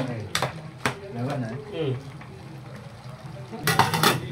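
Chicken liver fry being stirred in a pan, with sharp scraping clinks of a utensil against the pan bottom near the start and end, over a low cooking background.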